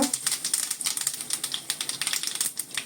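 Mustard seeds and asafoetida crackle and pop in hot oil for a Marathi ambadi greens dish, a dense, rapid run of sharp spitting bursts close by, with no talking.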